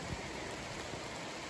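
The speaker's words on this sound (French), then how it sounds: "Il pleut, le temps est moche." Steady rain falls beside the swollen Yamaska River in Quebec's Eastern Townships on a dreary day, an even, soft hiss with no breaks and no voices.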